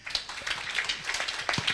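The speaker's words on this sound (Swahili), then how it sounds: "mpigie ni makofi" A church audience claps during a sermon, a quick run of sharp, uneven handclaps at moderate loudness over a couple of seconds with no talk.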